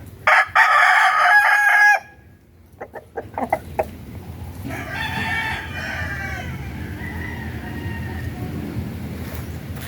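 A Dan Gray Lazy Roundhead gamefowl rooster gives one loud, close crow lasting about two seconds, then a few short clucks and low scratchy clucking continue more quietly afterward.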